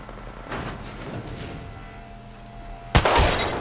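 Gunfire from a fight on the rail in the video game Apex Legends: faint distant shots early on, then a sudden loud burst of close fire near the end.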